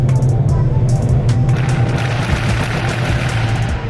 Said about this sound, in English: Big tunnel, we gotta get some pops and bangs